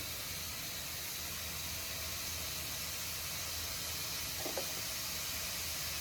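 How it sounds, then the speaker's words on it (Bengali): Ghee goes into a pan of shrimp malai curry, producing a steady, even sizzle and hiss that runs throughout with no break, and a small bubbling pop near the end. "এবারে আমি ঘিটা দিচ্ছি"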